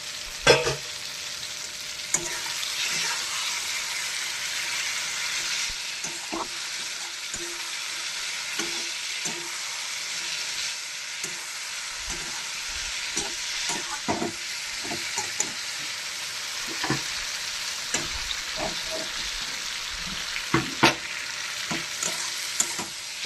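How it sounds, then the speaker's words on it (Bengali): Potatoes and tangra fish sizzle in hot oil for a long, steady stretch, with frequent scraping and tapping of a stirring utensil against the pan. "এবার একে একে আলু আর মাছ এর মধ্যে আমি দিয়ে দেবো"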